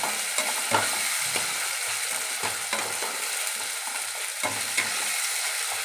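Morola fish fry in a pan after salt is added, a constant close sizzle broken by periodic scraping thumps of a spatula stirring at an uneven rhythm, with no talking.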